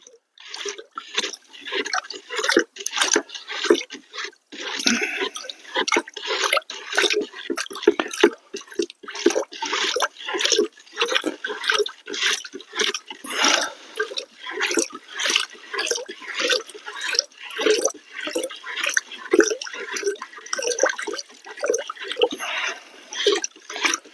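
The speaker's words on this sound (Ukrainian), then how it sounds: "І далі тонесенькою струєчкою, тонесенькою струєчкою лиємо." A thin stream of copper sulfate solution trickles into lime while mixing Bordeaux mixture, giving a long run of close, uneven splashing and dripping with brief pauses.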